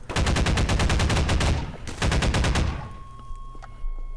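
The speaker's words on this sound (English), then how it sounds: "Where are you shooting at me from?" Rapid automatic gunfire in Half-Life 2 rattles out in a fast, evenly spaced burst for about one and a half seconds, pauses briefly, then fires a second shorter burst before trailing off into quieter ambience.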